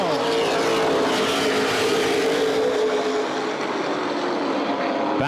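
Late model stock cars race around a short oval at Baer Field Speedway, a loud, sustained roar of several engines that swells as the pack passes close, then thins as it pulls away.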